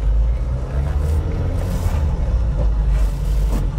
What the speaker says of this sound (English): due to CNG, engine is making a little bit of noise